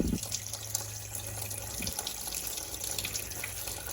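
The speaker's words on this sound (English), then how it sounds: "this pan I do not think will carry all of the coolant that's about to come out of the system" Coolant from a 1983 Volvo 242 radiator drains into a pan with a steady, faint trickling and splashing of liquid, close by and continuous with no talk.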